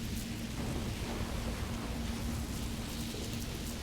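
Steady rain and low rumbling thunder in the fantasy role-playing game Divinity: Original Sin 2, a continuous dense wash of noise with a deep, sustained roll underneath and no talking.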